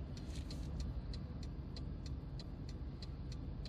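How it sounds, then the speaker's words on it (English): The turn indicator of a 2006 Rover CityRover 1.4 Style ticks in a steady, even rhythm of about eleven clicks over a low hum of road and engine noise inside the moving car. "Still got the merry indicator noise."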